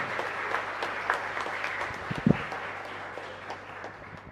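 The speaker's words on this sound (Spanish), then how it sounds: "Yo creo que son merecedores de un fuerte aplauso en gratitud" Congregation applauding inside a chapel during a live-streamed Mass, a moderate wash of clapping over a low steady hum, with one louder thump near the middle.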